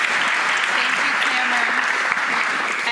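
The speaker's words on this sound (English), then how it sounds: "Give yourself a round of applause." A youth summit audience breaks into loud, dense applause after a panel discussion, the sustained clapping filling the whole stretch evenly without pause.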